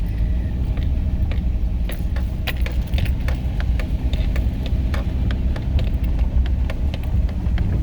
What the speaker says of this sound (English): I'm just driving a Subaru